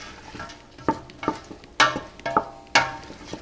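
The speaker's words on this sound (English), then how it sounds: "Give that a mixy mix, and then get these all nice sauteed up." Carrots, celery, onion and garlic are stirred in a pot, giving a series of sharp scraping and clacking strokes at irregular intervals over a quiet background sizzle, close and clear with no speech.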